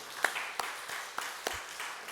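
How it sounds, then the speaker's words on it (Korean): A church congregation applauds, with a few loose, uneven claps at a moderate distance. The claps come over a soft background wash. "하나님께 영광의 박수 돌려드리겠습니다."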